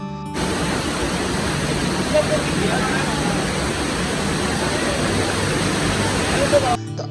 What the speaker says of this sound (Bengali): আজকের এই ভিডিওটার অন্যতম প্রধান আকর্ষণ হচ্ছে জাফলংয়ের ভিতর লুকিয়ে থাকা সেই মায়াবী ঝর্ণা